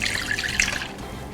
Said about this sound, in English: I'm going to go ahead and pour it through a strainer.